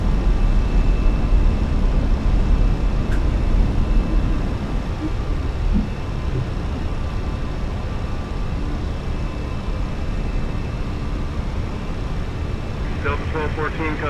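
Fenix A320 airliner taking off in Microsoft Flight Simulator, a steady loud engine roar with deep rumble that holds throughout, easing slightly after the first few seconds, with a brief click and faint chirps near the end.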